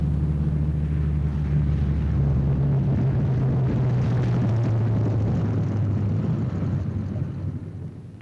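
A WWII-era four-engine bomber comes in to land, its engines a loud, steady low drone with a slowly falling pitch that fades slightly toward the end.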